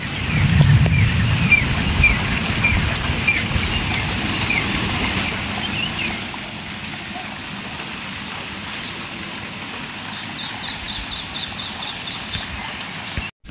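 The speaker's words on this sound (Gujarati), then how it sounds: "વરસાદ હજુ પણ થોડોક વધારે ચાલુ થયો" Steady rain falls outdoors in a monsoon shower, a broad, continuous patter that is heavier at first and eases to a softer hiss, with faint bird chirps and no talking.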